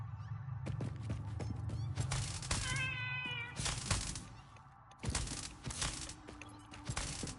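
A cat-like creature in the video game Satisfactory lets out a short, tonal meow amid clattering, percussive game effects and a low engine-like drone, the cry brief and mid-distance.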